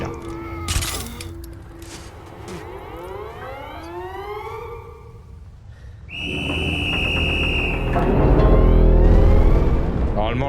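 A train whistle sounds in the Threshold video game as a shrill, sustained blast that follows earlier sweeping tones, over a rumbling mechanical background, with voices talking nearby.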